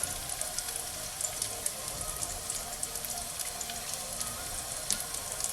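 Dry methi crackles and sizzles in hot oil for Bengali fried fish, a steady dense frying hiss with scattered sharp pops, close and alone.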